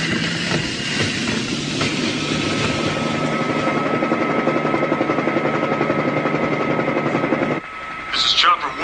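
A loud, continuous helicopter drone with a rhythmic rotor chopping rumble overhead holds steady for most of the clip, then cuts off abruptly near the end.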